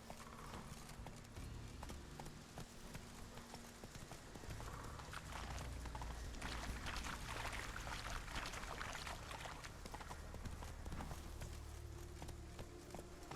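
Galloping horse hooves from Witcher 3, a steady clip-clop rhythm running throughout, fairly loud and close, with game music and ambient sound beneath.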